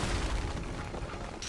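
A TNT charge detonates in the video game Uncharted: Drake's Fortune, giving a deep, muffled boom that rolls into a broad rumbling wash before tailing off.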